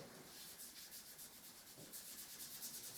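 Wood dye being rubbed into a wooden surface with a cloth. Close, steady, rhythmic scrubbing strokes with a sanding-like hiss, repeated evenly throughout, with no speech.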